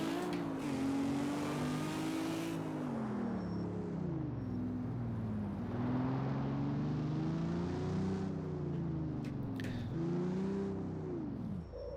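A Lamborghini engine in the racing video game CarX Street drones continuously, its pitch rising and falling as the car accelerates and eases off. The sound stays close and steady, with no talk over it.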